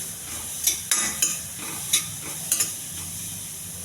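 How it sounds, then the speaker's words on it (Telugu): Carrots dry-roasted in a pan with no oil or ghee, a soft dry sizzle with several light scrapes and taps as a spoon stirs them. "క్యారెట్ కొంచెం వేగించాలండి. నూనె కానీ నెయ్యి కానీ ఏమి వేయలేదు, ఉప్పుగా వేగించాలి."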